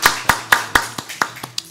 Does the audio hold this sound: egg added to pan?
no